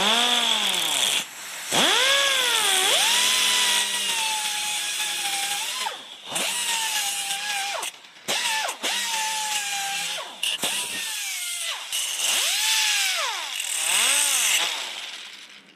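Power tool cutting off the protruding excess of a new car door lock: a loud, whining motor rising and falling in pitch through repeated bursts, with short gaps between cuts.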